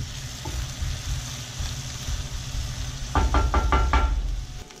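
Onions cook in a pan of reducing stock and sherry vinegar with a steady soft sizzle, then a quick run of close knocks and taps as the pan is stirred.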